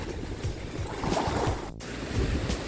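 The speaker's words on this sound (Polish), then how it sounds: "jest taka fala, że po prostu nie sposób chodzić" Sea waves surge and wash steadily onto a shore, a continuous broad rushing roar with wind buffeting the microphone and a brief dropout partway through.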